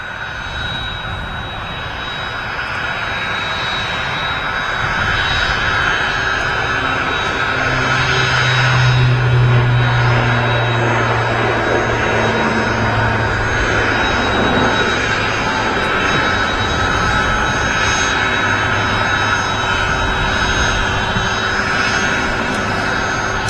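An ATR turboprop airliner bound for the Isle of Man rolls for takeoff at Manchester Airport, its engine roar swelling steadily from a moderate drone to a sustained, loud, droning thrust heard from a distance.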